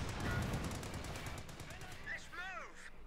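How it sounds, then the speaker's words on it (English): Sten guns fire in a video game, opening with a rapid run of sharp, evenly spaced shots, followed by a voice talking over fainter distant gunfire. "Sten guns going pop, pop, pop here"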